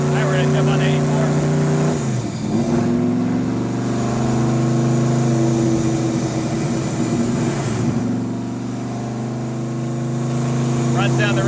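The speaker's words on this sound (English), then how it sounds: "Runs down the road nicely, we're in third gear." A 1993 Ford Mustang Fox body, a street-legal build of around 1,000 horsepower, cruising in third gear on a highway, with a loud steady engine drone and tonal whine that shifts pitch as the revs change, heard from inside the car.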